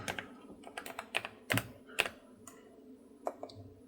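Keystrokes on a computer keyboard typing a file search term, a quick irregular run of close, crisp clicks with short pauses between bursts, no talking.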